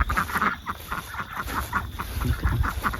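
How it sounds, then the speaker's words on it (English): Several ducks quacking nearby on a pasture pig farm in a rapid, overlapping chorus of nasal calls, steady and fairly loud outdoors. "But here are our funny little ducks."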